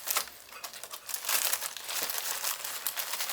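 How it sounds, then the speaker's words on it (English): A packet of graham crackers is torn open and handled. Close, continuous crinkling and rustling of the plastic wrapper fills the whole stretch with no talk. "So I got me a packet of graham crackers. Let's open those"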